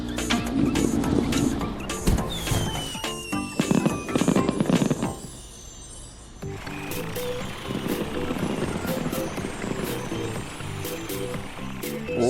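Animated cartoon bangs and crackling bursts of fireworks mixed with vehicle noise and a whistling rise, loud and busy, with a brief quieter lull midway.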